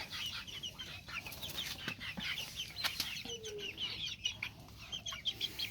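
A mini Cochin chick makes soft, repeated clucks and peeps at close range, a light, scattered pattern of small calls over a quiet background with no talking.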